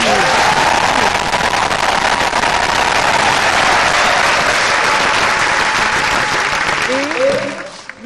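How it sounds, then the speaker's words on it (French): A large crowd applauds in the Stade Tata Raphaël stadium in Kinshasa, dense and loud clapping that holds steady for about seven seconds before fading, with cheering voices mixed in. "Un applaudissement"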